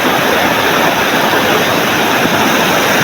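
Stream water flows steadily beside a rural footpath through farmland, a loud, continuous rushing wash that stays close and even throughout, with no voices over it.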